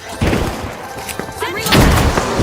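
Heavy thuds and a booming crash from an explosion in a shooter video game, with a sharp blast near the start and another burst of rumbling debris later, over game sound effects.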